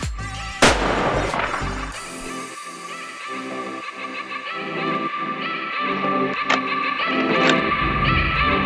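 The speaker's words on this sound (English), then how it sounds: "Got Adam's first shot" A single loud .308 rifle shot fired while deer hunting in Kansas, a sharp crack with a rolling echo, followed by quieter outdoor noise and distant rumbling.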